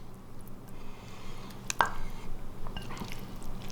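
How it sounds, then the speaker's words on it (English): Sautéed lobster meat is scooped with a slotted spoon into a mayonnaise dressing, giving soft wet squishes, drips and a brief clink of the spoon, all quiet and close. "we're going to go ahead and scoop that over into our dressing."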